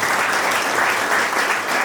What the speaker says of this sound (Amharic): አጨብጭቡ።